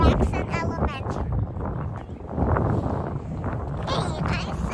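Strong gusts buffet the microphone outdoors by an elementary school, a loud, steady low roar that swells and dips while a voice talks over it.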